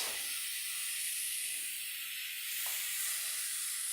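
A rack of lamb searing in a hot pan gives a loud, continuous bright hiss and sizzle that holds steady throughout, with a slight shift partway through.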